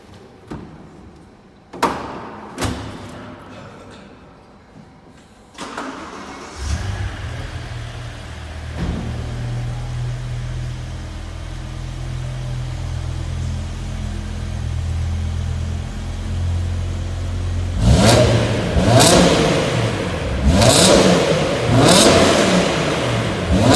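A few sharp knocks and a door thud, then a BMW M5's V10 engine starts and idles with a deep rumble before revving loudly several times near the end.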